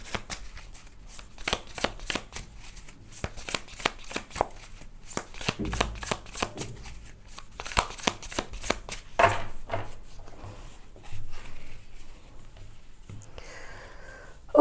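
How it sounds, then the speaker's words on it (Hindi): Tarot cards being shuffled and laid out by hand, with a rapid, crisp series of riffling card flicks, then softer slides and taps as the cards are placed down, close and quiet with no talking. "ओके, तो मैंने यहाँ पे कार्ड्स को लेआउट कर लिया है।"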